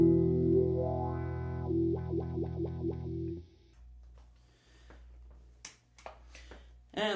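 A guitar chord rings out through a Cry Baby Classic wah pedal, the tone swept up and down in several quick rhythmic vocal-like wah pulses before it decays, followed by faint clicks and handling noises.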